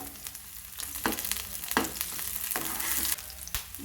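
Chopped onions dropped into hot oil sizzle and fry steadily while a spoon stirs and scrapes the pan in a few sharp knocks, close up and with no voices.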